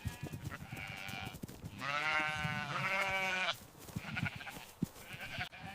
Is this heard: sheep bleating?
yes